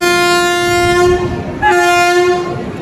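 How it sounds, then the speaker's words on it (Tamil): The 22650 Yercaud Express, on its first LHB rake run, pulls out of Erode Junction and sounds a loud, sustained horn in two long blasts, one right after the other. "22650 ஏற்காடு எக்ஸ்பிரஸ் கிளம்பியாச்சுங்க ஈரோடு ஜங்ஷன் விட்டு."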